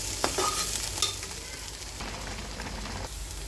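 Chopped carrots sizzle in a hot pan while a spoon scrapes and stirs them, a steady crackling hiss with a few sharp clinks near the start, close and fairly quiet.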